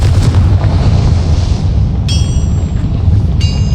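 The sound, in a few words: Bombarda/Confringo spell explosion in video game Hogwarts Legacy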